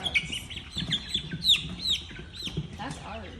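A hen clucks among other birds in a barn housing chickens and young turkeys, with short repeated calls and chirps rising over a faint background while people talk nearby.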